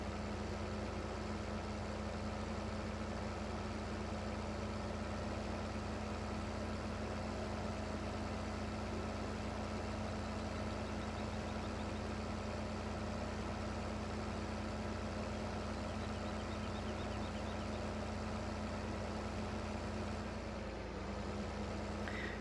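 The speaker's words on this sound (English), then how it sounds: "now we've got our tractor connected to the tipper, let's get it over to the harvester" A tractor engine in Farming Simulator 2015 idles and drones steadily, rumbling at constant pitch for the whole stretch, with a brief dip near the end; no talking.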